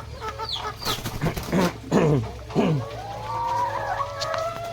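Laying hens cluck and squawk while being handled, with several sharp agitated calls close by followed by a drawn-out rising cackle, over a low steady background hum.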